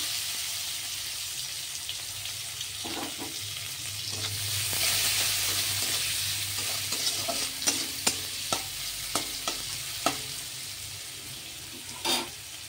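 Chopped onion and whole garam masala fry in hot oil with a steady close sizzle, while a spoon stirs and scrapes the pan in a run of sharp knocks toward the end.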